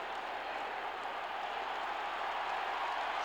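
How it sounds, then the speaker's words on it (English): Stadium crowd at a 1979 Redskins–Lions football game giving the Lions a standing ovation: a steady, distant wash of applause and crowd roar with no single claps standing out, unbroken throughout. "Standing ovation for the Lions."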